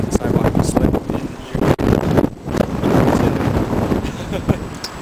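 Outdoor wind buffets the microphone near a sidewalk, loud and gusty rumbling throughout with short dips, and a voice may be partly buried beneath it.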